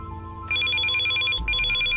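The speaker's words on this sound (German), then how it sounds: "Telefon." A telephone rings inside the video game Still Life 2, a bright electronic trill that starts abruptly, pauses briefly and resumes, loud and steady over a low background hum.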